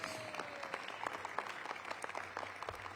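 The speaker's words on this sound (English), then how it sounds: "Give yourselves a round of applause." A roomful of people at a Greater Washington Partnership event breaks into applause, a steady patter of many hands clapping at moderate distance, with no voices over it.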